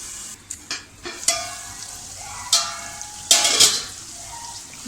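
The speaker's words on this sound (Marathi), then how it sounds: "आपल्याला टॅमॅटोसुद्धा आपल्याला आतमध्ये अगदी एकजीव होईपर्यंत परतून घ्यायचं आहे।" Onion and tomato sautéing in a pan for Dhaba-style chicken lapeta, a steady close sizzle with several sharp bursts of stirring and scraping, no talk.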